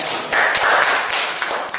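A school audience claps briefly, a short burst of scattered hand claps at moderate loudness with a few distinct taps as it trails off.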